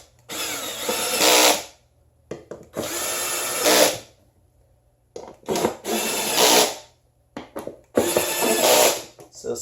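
Power drill driving screws while assembling an OFM Essentials racing-style leather gaming chair, four close whirring bursts of a few seconds each with short quiet gaps and a brief blip between.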